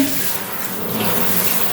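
Warm water pours steadily over a potted orchid, a continuous broadband splashing and trickling into the pot, close and unbroken.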